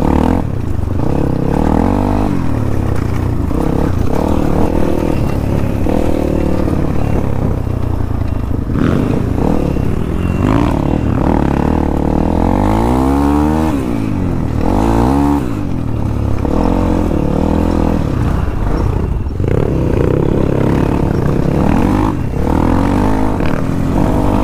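A 250cc dirt bike rides a dry mud track, its engine loud and close throughout, revving up and down in rising and falling sweeps with rattling clatter from the rough ground and no talking.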